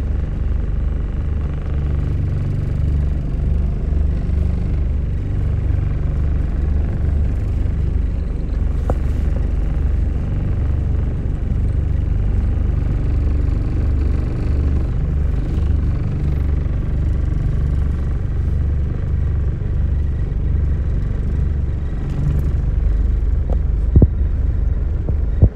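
A car's engine rumbles low and steady at a slow crawl, following a blind man along a street, with no talk.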